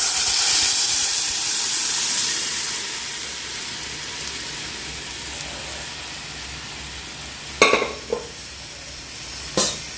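Curry leaves and crushed chilli sizzle in hot oil for a dal tempering, a loud steady hiss that slowly fades, followed by a few sharp clinks of a utensil near the end.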